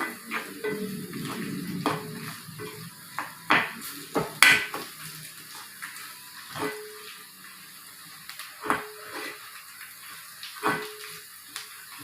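Garlic sautés in a pan with a soft sizzle under intermittent scraping and clinking of a spoon stirring, close by, with brief gaps between strokes and no talk.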